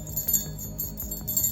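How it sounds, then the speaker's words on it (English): A small bell shaken in a short repeating loop gives bright, high jingling strikes in quick irregular bursts, fairly faint and close with no voices. "I recorded like a long loop of my bell being shaken."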